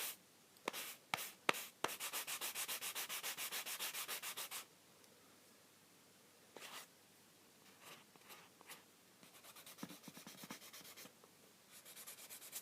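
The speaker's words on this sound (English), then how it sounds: "Sand the edges and the middle, and a bit on top" Hand sanding of a small brooch: rapid rhythmic scratchy strokes in a long burst, then scattered short rubs and pauses, close and fairly quiet.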